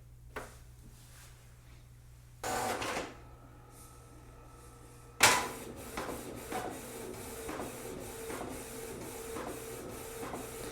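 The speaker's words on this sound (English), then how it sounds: "it makes quite a strange noise when printing" A Canon Pixma TR3720 inkjet printer makes a colour copy nearby, with a whirring start, a sharp clunk, then steady mechanical churning broken by repeated rhythmic clicks and ticks as the paper feeds through.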